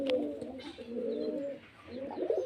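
Pigeons at a home loft where they are kept for sale coo in low, rolling calls, close and continuous with a faint higher chirp early on.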